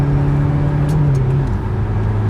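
A Volkswagen Caddy fitted with air suspension drives and accelerates, its engine giving a steady, loud hum from inside the car with a slight rise in pitch as it pulls.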